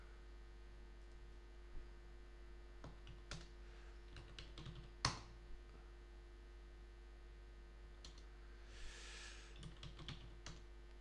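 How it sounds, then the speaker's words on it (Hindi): Typing on a computer keyboard during Linux system administration work, sparse irregular key clicks with a few sharper taps, close and faint over a steady electrical hum. "कीबोर्ड मुझे बहुत प्रॉब्लम दे रहा है आज।"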